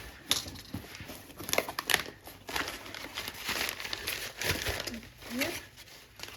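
Paper crinkling and crumpling in repeated bursts, close by, with a person talking quietly over it.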